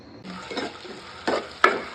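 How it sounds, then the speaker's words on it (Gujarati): Onions sautéing in oil in a pan for a gram flour sabzi, a soft steady sizzle broken by a few louder stirring scrapes and one sharp clink near the end. "ડુંગળી નાખી દીધી છે તેલમાં સાંતળી દીધી બ્રાઉન કલરની થાય તે સુધી સાંતળવાની છે"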